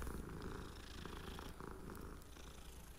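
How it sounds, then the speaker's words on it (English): A cat in Hogwarts Legacy on Xbox One purrs steadily and close up, a continuous low rumbling purr with a faint game ambience behind it and no talking. "The kitty cat."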